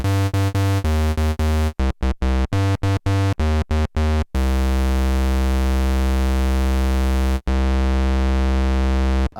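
Minimoog synthesizer playing a buzzy pulse bass tone, first as a run of short rhythmic staccato notes, then as a long sustained note, loud and alone.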